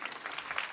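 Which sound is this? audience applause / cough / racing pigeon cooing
audience applause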